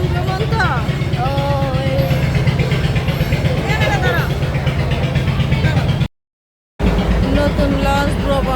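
Steady, loud engine drone of a new river launch passenger ferry under way, a continuous low hum running throughout with a brief dropout near the end, while people talk over it.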